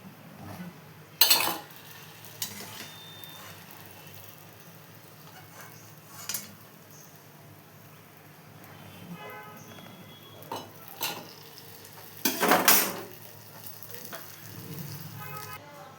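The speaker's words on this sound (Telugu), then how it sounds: "కొంచెం టైం పడుతుందండి, సిమ్లో వేగాలి కదా, కొంచెం టైం పడుతుంది." Badusha dough frying slowly in oil over a low flame gives a quiet, steady sizzle, broken by occasional clinks and scrapes of a utensil against the pan.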